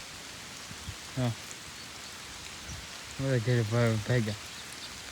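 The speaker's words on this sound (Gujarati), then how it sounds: "હા હવે શરૂ થઈ ગયો વરસાદ." Rain begins falling outdoors, a soft, steady hiss of drops on surfaces running faintly throughout while a person talks briefly over it.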